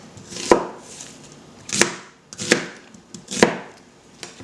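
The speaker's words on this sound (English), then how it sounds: "So now that we have our red onion chopped up in here" A knife chops through red onion on a cutting board: five sharp, crisp strikes land at uneven intervals, close and clear, with no voices.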